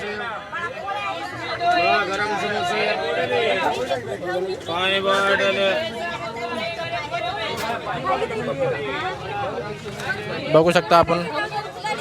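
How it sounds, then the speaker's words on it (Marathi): Crowded passenger train between Chhatrapati Sambhajinagar and Jalna, filled with a dense, continuous babble of many overlapping voices nearby, one voice speaking close over the general chatter of the packed carriage. "ट्रेनला खूप अशी गर्दी आहे"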